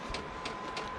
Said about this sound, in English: now the pump is trucking away